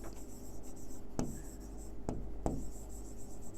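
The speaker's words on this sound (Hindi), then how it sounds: "मैं इसको लिख दे रही हूँ," A pen scratches across paper in steady close strokes of handwriting, with a few sharper taps as the pen lands, over a quiet room background.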